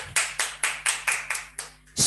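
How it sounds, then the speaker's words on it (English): Kindergarten children clap in a steady rhythm during an action-words lesson, about eight crisp claps close up, with a voice starting right at the end. "Very good, clapping."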